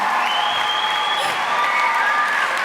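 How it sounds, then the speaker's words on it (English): A large crowd applauds and cheers at a FIRST Lego League UK national championship event, dense steady clapping filling the whole stretch at close, even loudness with no talking over it. "massive round of applause?"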